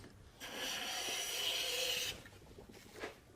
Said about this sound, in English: I've planed away some of those lines